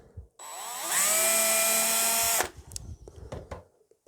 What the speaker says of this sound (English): I'll mark it with a drill bit.